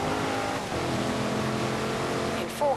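A Range Rover Sport SVR engine in the racing video game Forza Horizon 4 hums steadily at speed, a constant droning motor tone with a short rising whine at the end.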